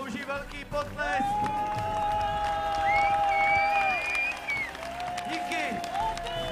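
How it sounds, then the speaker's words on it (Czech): Audience applause and cheering for a women's melee fencing team at a tournament, crowd clapping throughout with a sustained whistle-like tone and voices chattering on top. "Tak tyhle dámy si zaslouží velký potlesk."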